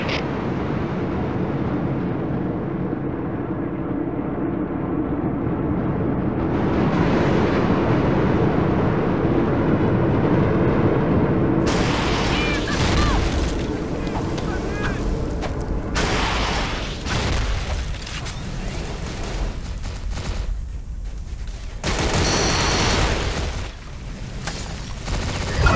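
Two airstrikes in the shooter game CrossFire, wave mode: dense rumbling blasts and heavy gunfire roll on continuously, loud and close, with sharp bursts and booms layered over a churning low roar, no talking.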